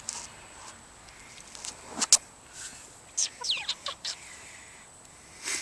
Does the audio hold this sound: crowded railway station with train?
no